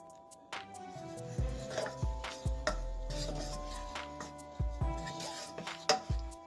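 Utensil scraping and rubbing around a pan while stirring a Thai peanut sauce mixture, with steady clatter and scraping strokes and a few sharper knocks close by.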